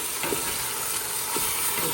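Ground beef, 85% lean with 15% fat, browning in a pan for taco bowls gives off a steady, close sizzle with a faint crackle throughout and no voices.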